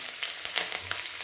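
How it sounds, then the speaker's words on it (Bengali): Garlic cloves frying in hot oil in a wok, a close, continuous crackling sizzle with a few sharp pops and spatters, no talking. "আমি প্রথমে এই রসুনগুলো দিয়ে দিচ্ছি, রসুনগুলো জাস্ট একটুখানি ভেজে নেব।"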